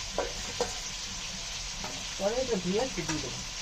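Chicken chaap frying in hot oil with its spice gravy, with a steady sizzle, scraping stirs of a spoon against the pan, and a few sharp clinks, close and alone.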